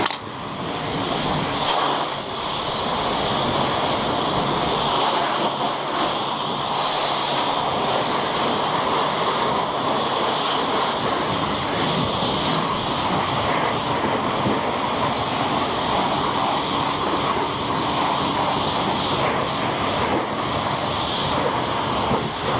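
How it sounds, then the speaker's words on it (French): A water rinse of a Toyota Prius engine bay, probably from a pressure washer, makes a loud, steady hissing spray that runs unbroken for over twenty seconds after a brief start-up, with no voices. "Je vais rincer un petit coup pour éviter que le savon ne sèche dessus."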